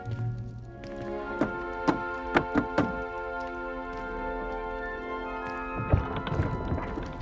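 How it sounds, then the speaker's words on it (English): A wooden barrel in Hogwarts Legacy is tapped in a rhythmic pattern, six or so sharp hollow knocks in quick succession, then a final knock over a soft magical hum and ambient game music. "You must tap the barrel, 2 from the bottom, middle of the second row, in the rhythm of Helga Hufflepuff"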